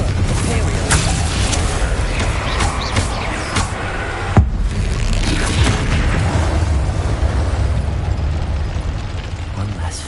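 Spell explosions in Hogwarts Legacy, Bombarda and Confringo blasts: continuous rumbling booms and bursts with one sharp crack midway, loud and dense throughout.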